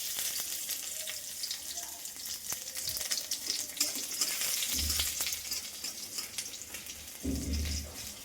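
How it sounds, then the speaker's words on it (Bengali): Garlic fries in hot oil as a tempering for okra, a continuous bright sizzle with crackling pops and a couple of brief low clunks from the pan. "রসুনটা একটু ভাজা হয়ে গেলে এটা দিয়ে দিলেই হবে।"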